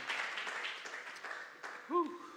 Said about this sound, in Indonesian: Beri tepuk tangan sekali lagi buat Tuhan Yesus